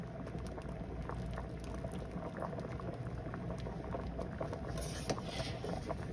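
Mung beans and glutinous rice balls (bilo-bilo) with sweet potato boil steadily in a pot for ginataang bilo-bilo, a continuous close bubbling churn with no talk.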